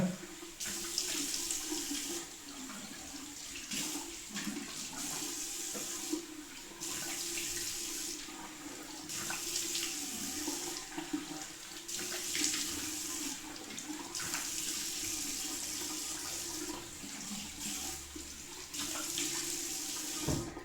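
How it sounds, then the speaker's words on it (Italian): A hot water tap runs steadily into a bathroom sink for rinsing after a shave with a safety razor, a continuous close hiss of flowing water broken by brief splashes and pauses as hands move through the stream. "acqua calda, diamo una sciacquatona, non troppo calda però"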